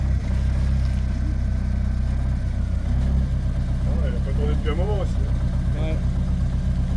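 A van engine runs steadily after sitting unused for a while, a loud, continuous low rumble close by, while people talk over it.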